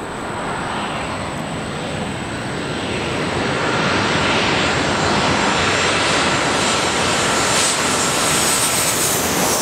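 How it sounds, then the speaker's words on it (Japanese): Boeing 787 airliner arriving from Tokyo Haneda, a loud continuous engine roar that swells steadily as the jet approaches for landing. "ボーイング787東京羽田から2機続いて到着でございます。"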